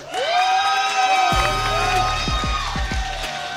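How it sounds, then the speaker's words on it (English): A fight-event crowd in Burbank roars loudly as a featherweight fighter enters the cage, sustained cheering and whoops throughout, with deep booming thuds from the arena sound system partway through. "Listen to this crowd get loud in Burbank for Amin Derakshan"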